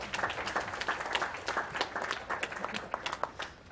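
A live audience at a speedrun event breaks into applause, dense close clapping in a steady burst lasting a few seconds.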